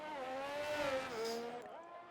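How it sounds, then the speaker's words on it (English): Alpine Formula 1 car engine in F1 2023, a high, close, harmonic-rich whine rising through the gears with a brief dip and climb, no voices. "he is cursing the sound of that Alpine"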